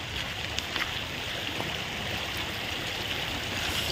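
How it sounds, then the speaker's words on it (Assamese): A river stream flows in a steady, continuous rush of water, close and even throughout with no pauses. "এতিয়া মই নদীত নামিম ইয়ে চাওক নদীটো"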